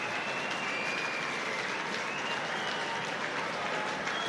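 A rugby league crowd at a 2013 World Cup match between Ireland and Fiji applauds in a dense, continuous wash of clapping that holds at an even level from start to finish.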